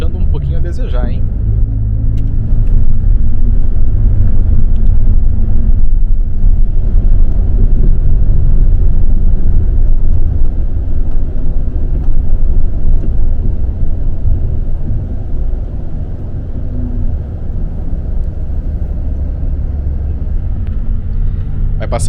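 A front-mounted engine on an intercity bus running from Curitiba to Joinville drones as a loud, steady low rumble inside the poorly insulated cabin, holding constant throughout with a brief voice near the start.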